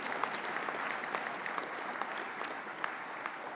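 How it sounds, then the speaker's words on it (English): Audience applause at a regional council meeting, heard as a dense, even wash of many hands clapping throughout, with a few sharper claps and no talking. "please give a round of applause"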